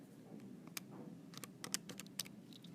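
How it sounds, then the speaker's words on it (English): Quick, quiet key presses on a calculator tap out an irregular string of sharp clicks over a soft background hum, close and faint, with no talking. "this time in your calculator, you're typing in 5 divided by cosine of 60"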